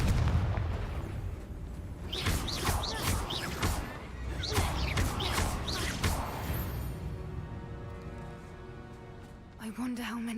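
Fiery spell blasts in Hogwarts Legacy, a burst of booming, crashing impacts in the first six seconds that fades into a lingering rumble and tonal hum, with a final sharp hit near the end; the sounds play mixed with game audio.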